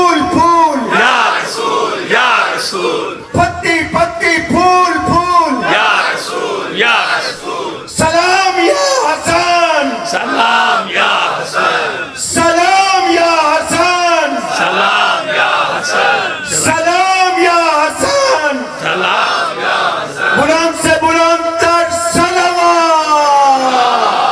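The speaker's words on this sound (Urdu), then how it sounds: "سب بولیں گے پتی پتی پھول پھول یا رسول" A large crowd at a Shia religious gathering in Township, Lahore chants a devotional slogan in loud, rhythmic unison, with repeated call-and-response bursts of many voices sustained throughout.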